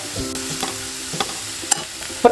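Onion, green chillies and spring onion sautéing in oil in a pan over low heat, with a crackling sizzle and several distinct clacks of the spatula against the pan, the last one the loudest. No one speaks.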